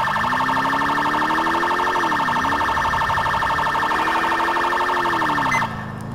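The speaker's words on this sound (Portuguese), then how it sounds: "Desligar a sirene que já é aqui" A loud, continuous wailing police siren in GTA 4 with a rising and falling pitch, electronic and steady, cutting off abruptly near the end.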